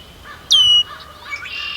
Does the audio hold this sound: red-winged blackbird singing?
yes